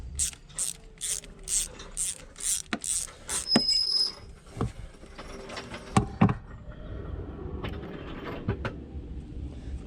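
Torx T30 screws being turned out of the PCV engine breather system on a Volvo V70: a quick run of rhythmic ratchet clicks, then scattered creaks, taps and clicks of the tool and parts, close and fairly quiet.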